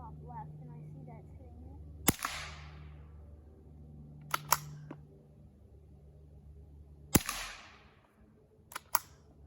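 Rimfire rifle shots fired at a target: four sharp reports in two close pairs, each cracking loudly then ringing off briefly, with a low steady hum beneath and faint voices early on.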